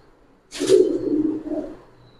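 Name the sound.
pigeons cooing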